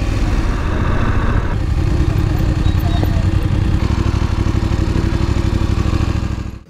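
A Voge 900 DSX motorcycle idles after pulling over, its close, loud engine holding a steady low throbbing rumble before cutting off at the end.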